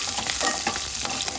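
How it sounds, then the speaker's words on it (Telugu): Cumin, mustard seeds, chillies and crushed garlic sizzle steadily in hot oil over a low flame as a tempering, a continuous close frying crackle with light stirring and no voices. "ఇవన్నీ వేసేసి సన్న మంట మీద వేసుకోవాలి"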